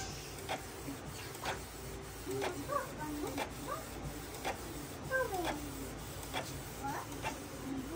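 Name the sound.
Canon G3000 inkjet printer printing a page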